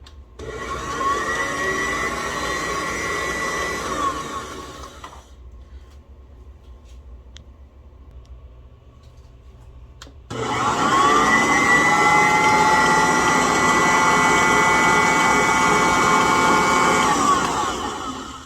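An electric mixer whirs loudly while beating sweet potato cupcake batter, running steadily for about five seconds, stopping for a quiet pause, then starting again and droning on at a higher level to the end.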